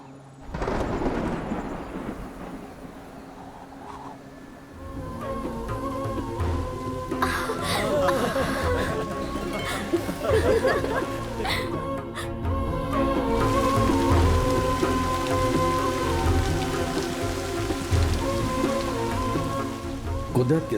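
Heavy rain pours steadily while thunder rumbles and cracks overhead, a dense, loud storm that continues throughout.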